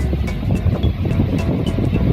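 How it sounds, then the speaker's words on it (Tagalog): Strong wind buffets the microphone in Chonburi, Thailand, in a steady, rumbling roar with gusty surges throughout. "Sobrang lakas ng hangin."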